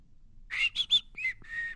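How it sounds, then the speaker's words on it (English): A short whistled tune of a few bright, separate notes, fairly close and moderately loud, with no talking. "I'm whistling"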